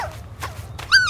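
A cartoon dog in the Endless Alphabet game gives short yips and whimpers, a few separate bursts before a brighter, louder yelp at the end, heard alone without talking.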